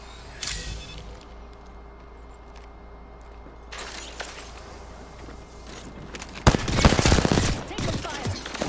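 Gunfire in Apex Legends: scattered shots and footsteps over quiet ambience, building to a loud, dense burst of rapid automatic fire near the end.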